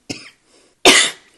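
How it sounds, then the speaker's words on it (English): A short, light cough, a brief pause, then a louder, harsher cough close to the mic. "I'm just coughing."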